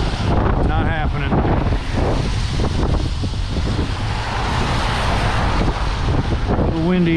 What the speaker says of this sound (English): A little windy, folks.